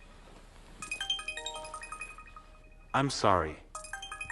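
A phone ringtone plays in a repeating melodic pattern through most of the moment, moderately loud, pausing briefly while a voice speaks over it before the ringing resumes.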